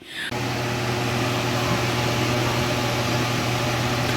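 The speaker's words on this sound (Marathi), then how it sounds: "खूप कूलर आवाज करतात" An air cooler runs steadily with a constant whirring hum and broadband airflow hiss after a brief start, loud and close with no talk over it.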